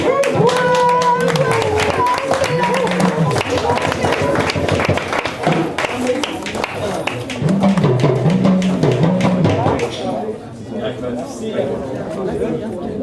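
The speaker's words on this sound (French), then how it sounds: "Est-ce que vous pouvez applaudir pour vous-même?" A storytelling audience claps for themselves, rhythmic group clapping mixed with chatter and a voice talking or chanting over it, loud and close, easing off toward the end.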